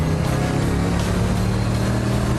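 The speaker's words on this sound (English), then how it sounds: "Despite it being German, listen to this. This is just V8." Mercedes SLR McLaren with a V8 engine, a loud, deep, continuous rumble of the running engine, steady and close throughout.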